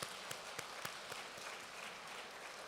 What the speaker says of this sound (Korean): 힘찬 박수 부탁드리겠습니다